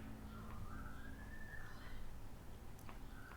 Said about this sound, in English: You guys hear Skylar whistling up?